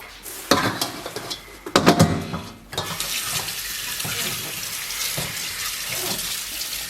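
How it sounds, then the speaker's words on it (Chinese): Pork ribs rinsed under a running kitchen tap, water splashing steadily into a sink with a few louder bursts early on, then an even continuous gush; no talking. "把排骨给它冲洗干净"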